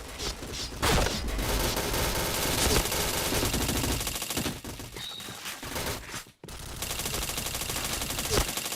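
Rapid automatic gunfire from the online shooter game Point Blank pours out in dense, continuous bursts. It is loud and close throughout, with a brief break near the end before the firing resumes.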